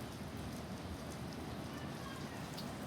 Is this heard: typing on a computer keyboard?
no